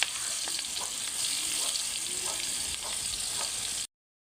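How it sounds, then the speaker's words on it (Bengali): Onions and sliced chillies fry in oil over a clay stove, with a constant loud sizzle and occasional light stirring clicks, and the sound then cuts off abruptly near the end. "এখন মরিচ ফালি দিয়ে দিলাম।"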